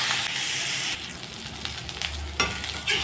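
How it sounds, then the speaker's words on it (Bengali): Chopped onions fry with cumin seeds and green chillies in a pan, giving a loud, continuous close-up sizzle with stirring scrapes, with no talk. "পেঁয়াজ এখন আমি লালচে করে ভেজে নেব।"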